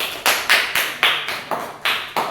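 A class claps in unison for a student group in an Indonesian lesson, about eight sharp, evenly spaced group claps in a steady rhythm, loud and close with no talk over them.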